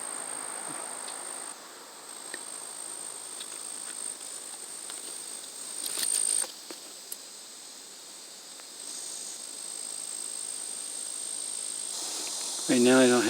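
Frogs call outdoors in a faint, continuous high-pitched trilling chorus that holds steady throughout, broken by a few soft clicks and a brief rustling bump near the end.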